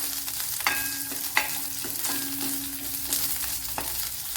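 Curry leaves frying in hot oil for a Kerala-style lemon pickle, a steady close sizzle with a few sharp crackles and pops as the leaves hit the pan, no voices over it.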